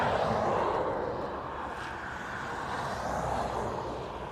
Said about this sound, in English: Looks like we have an American Dreamliner landing on the far side as well.